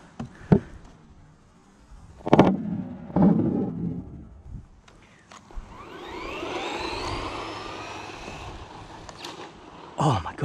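A cheap Amazon RC car runs at full speed, a strained, whining motor rising and falling over several seconds between sharp knocks and bumps, fairly close.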